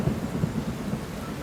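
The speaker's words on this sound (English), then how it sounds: "Only the sound of rain on the roof could be heard." Rain falls on a roof in a steady, dense patter, with low thunder rumbling underneath throughout and no voices.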